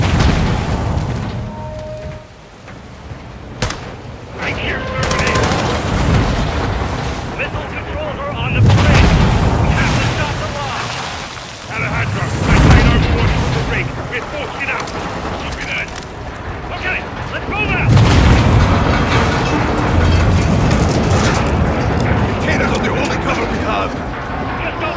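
Heavy combat in Call of Duty: Modern Warfare II, with deep booming explosions and bursts of gunfire rolling on and off over 25 seconds, loud and dense, while voices talk over the fighting.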